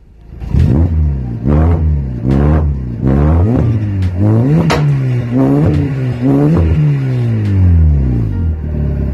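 Citroën C2 VTS engine revved repeatedly in short, loud blips, each rising and falling sharply, ending in a longer rev that slowly winds down, close by with no talking.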